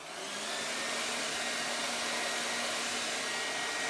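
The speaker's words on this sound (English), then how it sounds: "I'm avoiding the heat from my dryer on the transfer" Hair dryer blowing continuously, a steady loud whooshing hiss with a faint motor whine that ramps up at the start and holds evenly with no talk.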